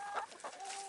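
Homestead chickens, hens and a light-colored rooster, give a couple of short clucks, a brief close burst of fowl calls, with no talking.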